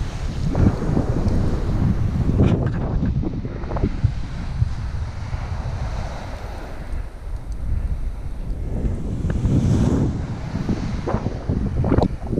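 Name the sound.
waves and wind on a sandy beach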